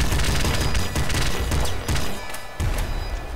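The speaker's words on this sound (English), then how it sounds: "And the machine gun once more." Dense, continuous machine gun fire from the top-down Nuclear Throne shooter, a loud unbroken rattle of rapid shots with brief dips and booming low thumps, no voices over it.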